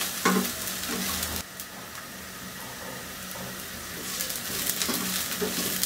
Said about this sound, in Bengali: একটু এর সাথে নেড়ে চেড়ে নিতে হবে